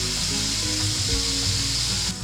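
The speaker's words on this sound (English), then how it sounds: "That pork belly is really starting to caramelise." Pork belly frying and caramelising in a pan on an induction hob gives a loud, steady sizzle that holds without a break before dropping slightly at the end.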